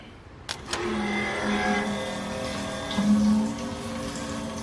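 A pump hums steadily as it circulates diesel fuel through pickup and return hoses in a sludgy fuel tank. Two brief clicks sound at the start, and the drone wavers slightly in pitch, with no talking.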